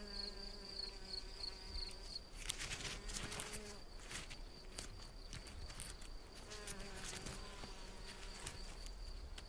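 Osmia bicolor mason bee buzzing steadily near a snail-shell nest site, a continuous insect drone with a high whine and brief louder bursts as it moves close.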